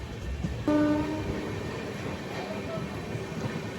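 A Pune–Kanyakumari Express passenger train runs with a steady rumbling roar, and a brief tonal horn-like blast sounds near the start before the rolling noise continues.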